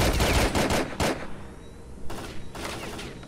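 Gunfire erupts while killing a machine gunner in the video game S.T.A.L.K.E.R. Clear Sky: a dense burst of loud shots opens, a single sharp report follows, and another cluster of rapid shots comes later, with no voices.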